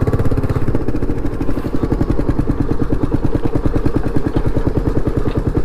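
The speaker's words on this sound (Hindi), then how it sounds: "तो यहाँ पर है जी रॉयल एनफील्ड। तो एक बार देख लेते हैं क्यों आवाज़ कर रही है।" Royal Enfield motorcycle engine with a loose silencer idling close by, a loud, rough, rapid thudding like a tractor, steady and alone throughout.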